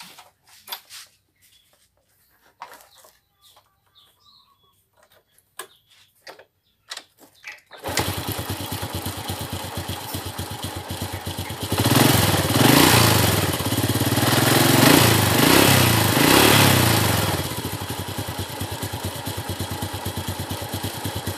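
A motorcycle engine with a knocking fault starts after a few quiet clicks and runs steadily, close and loud, rising briefly as it revs before settling back to a rough idle, with no talk.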